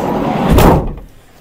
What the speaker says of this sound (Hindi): तो अब दरवाजे बंद करेंगे और एक राउंड लेंगे गाड़ी का